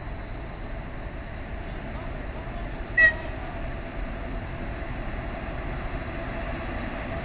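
Passenger train departing Kyiv, heard as a steady, even rumble of a train rolling past with one brief sharp squeal partway through.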